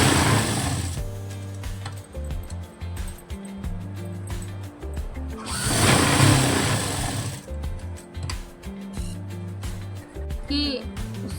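A sewing machine stitches a pocket onto palazzo fabric in steady, close, rapid mechanical runs that start and stop repeatedly, while a woman explains throughout.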